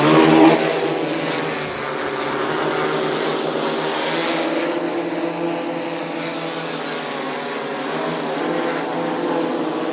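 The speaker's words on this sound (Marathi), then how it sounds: "हा ड्रोन आपला चालू झालेला आहे आता." An agricultural spraying drone flies over a sugarcane field, applying a micronutrient spray; a steady, loud motor and rotor whine holds throughout with a slight surge at the start and no talk.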